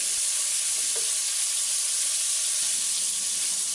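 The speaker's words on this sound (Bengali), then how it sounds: "খুব বেশি সময় ধরে চিংড়ি মাছ ভাজা যাবে না, তাহলে চিংড়ি মাছ শক্ত হয়ে যাবে।" Prawns fry in a pan with a steady, close, even sizzle that goes on without a break, with a faint stirring knock near the start.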